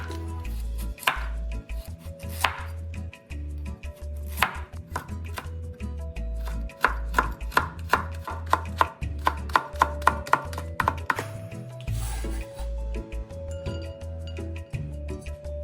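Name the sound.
knife chopping carrot into shreds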